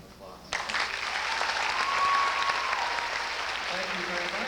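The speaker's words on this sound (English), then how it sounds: "have everybody give them a big round of applause" An audience at a 1994 dairy princess coronation in California breaks into applause after a brief quiet moment, the clapping swelling fast and continuing evenly at a moderate distance.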